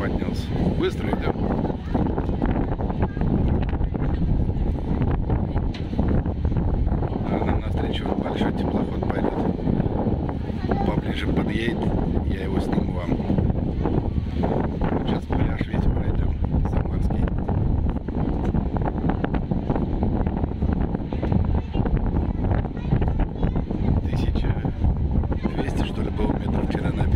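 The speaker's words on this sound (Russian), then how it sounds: "Ветрище-то какой поднялся." Strong wind buffets the open deck of the Moskva excursion boat on the Volga River, a constant rough roar with the vessel's engine rumbling underneath, continuing for nearly half a minute.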